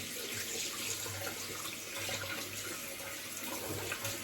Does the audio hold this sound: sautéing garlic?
no